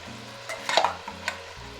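Meat sizzles gently in a pot while a utensil stirs it, with a few soft scraping clinks over the steady frying hiss.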